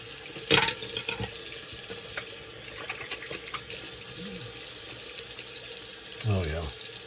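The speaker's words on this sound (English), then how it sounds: "Okay, let's get cleaned up here." Water running steadily from a bathroom tap during rinsing after a shave, a soft continuous splash with a few brief bumps and clatters near the basin.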